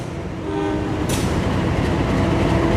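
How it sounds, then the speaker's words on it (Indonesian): A diesel locomotive in vintage 1980s PJKA livery hauls the Kahuripan passenger train past, a loud steady rumble and wheel roar swelling close by, with a brief horn-like tone partway through. "Lokomotif livery vintage PJKA nih ya."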